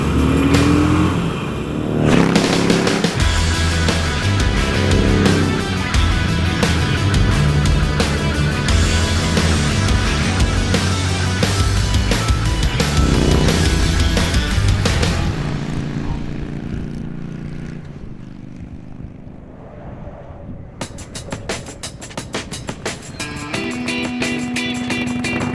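A stock Harley-Davidson Sportster Iron 883 motorcycle is ridden hard, its engine revving in a loud, steady drone that eases off in the middle before picking back up toward the end.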